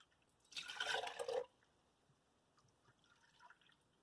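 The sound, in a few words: juice being poured into a quart jar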